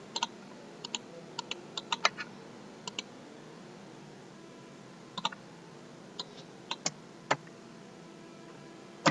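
Keyboard shortcuts and mouse clicks while designing a social media banner in Photoshop: scattered sharp clicks and short bursts of key taps, some in quick pairs, over a quiet room hum with no talking.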